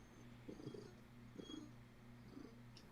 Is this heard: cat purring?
yes